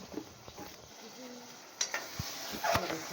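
Food roasting in a pot on a gas stove, with soft scraping stirs, light sizzling and a few sharp clinks of the utensil against the pot, close and fairly quiet.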